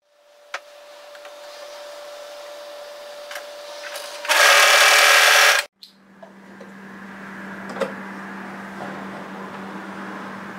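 Sewing machine stitching a knit cardigan seam for the Willow Cardigan pattern, a loud steady burst of motor whir for about a second and a half in the middle, with quieter room hum around it.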